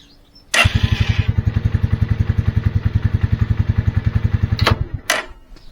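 A Lifan King motorcycle engine fires up abruptly and runs at a fast, even idle with a loud close thumping beat for several seconds before cutting off, followed by a couple of sharp clicks.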